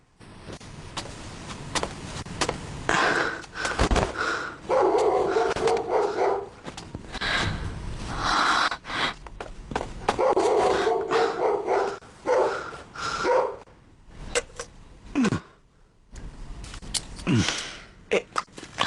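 A puppy barks and yips in repeated short bursts, close and loud, mixed with sniffing and scuffling. Lively talk and action-movie commotion run alongside.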